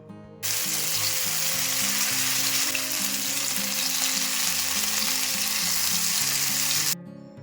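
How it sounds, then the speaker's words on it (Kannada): Fish pieces for a Mangalore-style tawa fry hiss in hot oil in a non-stick pan, a loud, steady sizzle that starts abruptly and holds for about six seconds over soft background music. "ಎಣ್ಣೆ ಬಿಸಿ ಆದಮೇಲೆ ಒಂದೊಂದೇ ಫಿಶ್ ಪೀಸ್ನ ಹಾಕೊತಾ ಇದ್ದೀನಿ"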